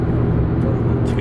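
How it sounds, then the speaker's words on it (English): A car drives along in a steady, loud rumble of engine and road noise heard from inside the cabin, with no pauses. "Just driving to the Americana."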